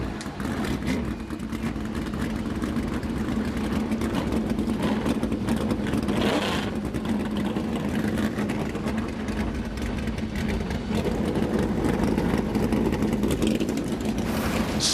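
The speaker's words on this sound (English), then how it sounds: "drivers, start your engines!" NASCAR Cup Series stock car engines at North Wilkesboro start and idle together in a steady, dense rumble, a low droning mass of engines continuing throughout with crowd and arena noise mixed in.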